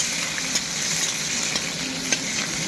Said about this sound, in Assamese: গৰম তেলত আদা ৰচুনো দি ল'লোঁ